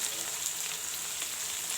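Hot oil tempering with turmeric powder added for avalakki uppittu sizzles steadily, a dense, even hiss heard close up without pauses and without talk.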